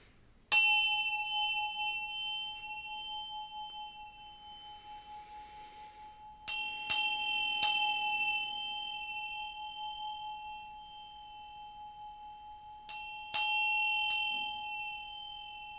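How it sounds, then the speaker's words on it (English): A bell rung by hand, struck about six times in three groups of quick double or triple strikes, each loud, clear ring hanging on and slowly decaying in an otherwise quiet room. "I'm going to ring this bell to bring some good vibes"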